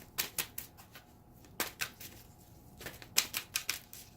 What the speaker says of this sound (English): I like shuffling these cards much better.